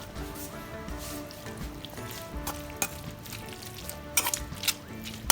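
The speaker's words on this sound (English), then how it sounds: "So I give it a nice stir, the pot's still really hot." A spoon stirs pork pesto pasta with broccoli in a hot pot, giving soft continuous sizzling and scraping with a few sharper clinks, fairly quiet and close, with no talk.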